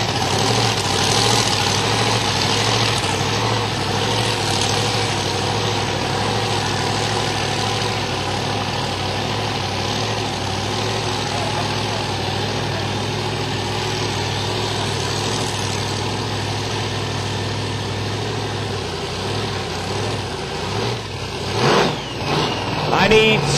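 A drag race car with a screw-type D-rotor blower does a long 300-foot burnout on Mickey Thompson 10.5 W tires at Silver Dollar Raceway during the New World Order Nationals. The engine roars loud and steady for over twenty seconds, with voices faintly underneath.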